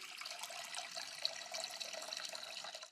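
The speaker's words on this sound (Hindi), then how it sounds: "इसमें डालता हूं पानी।" Water pours steadily into a cooking pot in a kitchen, a continuous splashing rush lasting a few seconds with no voices over it.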